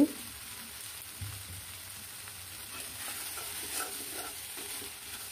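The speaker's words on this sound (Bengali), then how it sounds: "এখন নেড়ে চেড়ে দিচ্ছি" Taki fish chutney fries in oil in a pan and gets stirred. A faint, soft sizzle runs throughout, with quiet scraping strokes of the stirring, and no one speaks.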